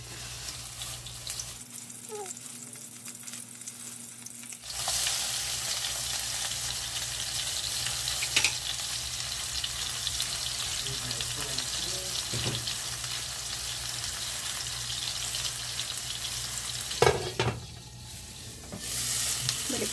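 Thick homemade beef burger patty frying in a little olive oil in a pan, a steady quiet sizzle running throughout with occasional clinks and a brief tap-water splash near the end, no talking.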